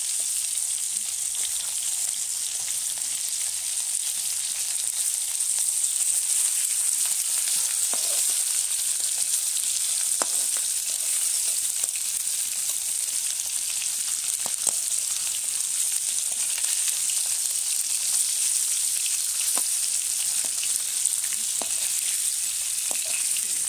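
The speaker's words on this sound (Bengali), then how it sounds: "কাঁকড়া গুলোকে ভাজবো এবার।" Sundarbans crabs frying in fish oil in a pan, producing a loud, steady, close hiss of sizzling with only a few faint clicks and no talking.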